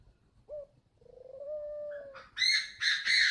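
A captive spotted dove of a Thai strain at a breeding farm in northern Vietnam gives a short note, then a drawn-out tone and several rising, rolling coos, close and clear with no voices.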